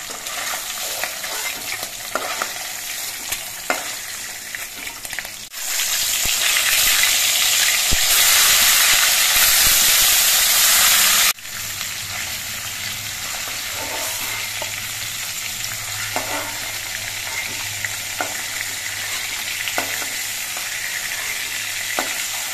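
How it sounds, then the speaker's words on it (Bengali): Hilsa fish frying in hot oil, a continuous close sizzle that swells into a louder roaring spit for several seconds, then settles back into steady frying with occasional crackles. "মাছটা তেলের মধ্যে দিয়ে আমি 1 মিনিটের মতো ভেজে নিয়েছি।"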